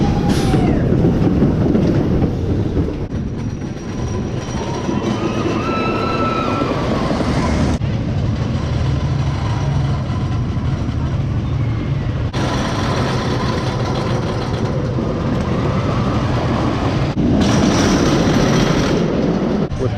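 The Racer wooden roller coaster train at Kings Island rumbles and clatters along its track in a long continuous roar, with squealing wheels and distant voices mixed in.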